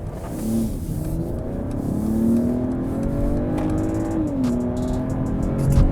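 A 2022 Mercedes-Benz GLE 450 Coupe engine revs up under throttle, its pitch climbing smoothly, dipping briefly as it shifts, then rising again, close and loud.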